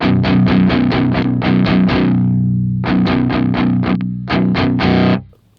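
Heavily distorted electric guitar chords through a Joyo Argos drive pedal are strummed in quick rhythmic bursts, with a short pause midway before the chugging resumes and then cuts off.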